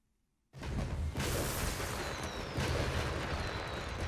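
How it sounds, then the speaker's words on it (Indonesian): Fireworks going off in the video game Watch Dogs Legion, a sudden loud burst after brief silence followed by a dense, sustained roar of crackling explosions and rising whistles with no talk. "pesta kembang api ini"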